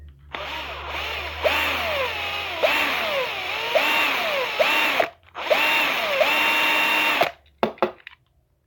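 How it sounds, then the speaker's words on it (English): A power drill boring into the base of a 1:64 diecast car, whining up and down in several long bursts separated by short pauses, close and steady, ending with a few brief clicks. "Let's get some more of these drilled out."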